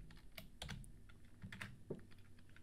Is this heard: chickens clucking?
no